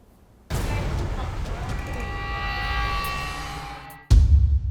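A bowed cymbal used as a dramatic reality-TV sound effect swells in as a sustained, shimmering metallic drone for about three and a half seconds, fades slightly, then is cut off by a loud, abrupt new sound.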